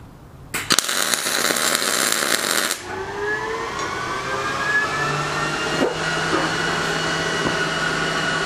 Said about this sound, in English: Alright, so now we're going to go ahead and weld it.